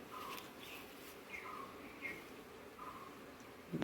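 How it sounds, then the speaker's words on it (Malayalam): Honey bees from an opened hive chamber at a Wayanad beekeeping site give a faint, thin buzzing that drifts in and out over a quiet outdoor background, with no speech. "ഈച്ച മൊത്തം പുറത്താട്ടോ."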